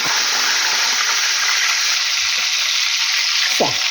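Chebureki pastries frying in hot oil give a steady, close sizzle and hiss throughout, with a few brief clinks and scrapes of a utensil near the end.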